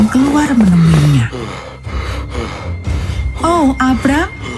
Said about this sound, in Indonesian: laki-laki itu terengah-engah